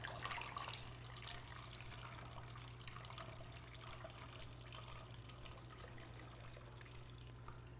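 Film developer liquid being poured back into its container, a faint, continuous trickling of liquid at low volume over a steady background hum.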